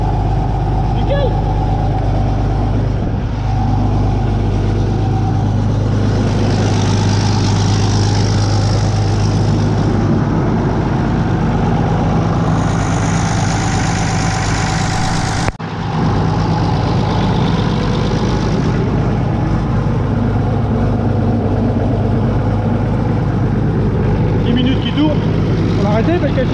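A Ford 9600 tractor engine idles steadily just after starting, a loud continuous low rumble that runs throughout with voices talking over it.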